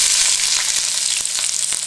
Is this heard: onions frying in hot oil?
yes